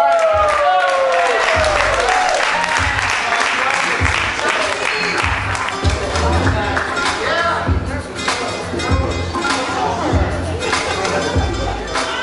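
Applause and cheering break out for a poet and musician at a Friday night showcase, mixed with whoops, crowd chatter and voices over the clapping, fairly loud and continuous for the whole stretch.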